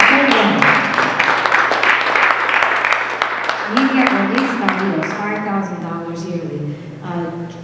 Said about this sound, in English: You can clap. That's a full ride.